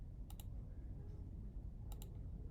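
Two quick pairs of crisp computer mouse clicks, close and sharp, separated by a pause over a low steady background hum, with no talking.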